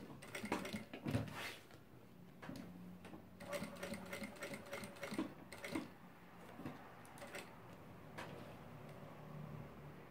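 A sewing machine stitches a fabric organizer in quick buzzing runs, broken by short pauses while the piece is turned, close and fairly quiet, with no talk.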